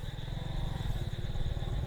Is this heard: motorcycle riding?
yes